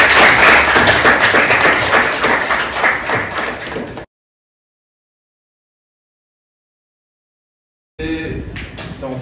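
An audience applauds loudly in a burst of dense clapping that fades, cuts to silence, then returns briefly at the end.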